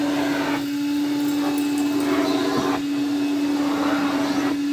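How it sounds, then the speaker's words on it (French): A 1950 electric vacuum cleaner runs steadily on a carpet, giving a continuous motor hum with a strong low tone and a broad airy rush, loud and close, with no talk over it. "bon voilà, ça reste un aspirateur."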